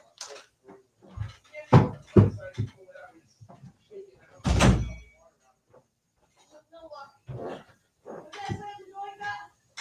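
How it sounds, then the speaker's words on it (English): A bedroom door is pushed shut with a solid thud partway through, and several other bumps and clatters come before it, all mixed in among nearby people talking. "So I just had to shut the bedroom door for a minute."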